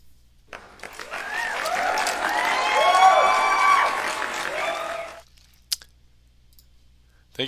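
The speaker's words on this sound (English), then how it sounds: "Thank you kindly for the applause, Diamond Club." A canned applause-and-cheering alert plays on a magic livestream, swelling for about five seconds with whoops over the clapping, then cutting off before a couple of sharp clicks.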